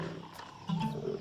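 A lion gives a short, deep roar up close on an African safari, rising and then holding strong for about a second.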